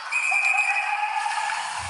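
A referee's whistle blown during an ice hockey game, a long steady shrill tone held for almost two seconds, clear and fairly close over faint arena background.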